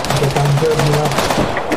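Rapid bursts of in-game rifle and machine-gun fire from Arma 3, loud and close, with a steady rattling rhythm over the full stretch and faint talk beneath.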